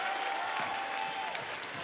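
A crowd at a WNBL women's basketball game between UC Capitals and Adelaide Lightning cheers and applauds loudly and continuously, a dense wash of clapping and raised voices filling the arena.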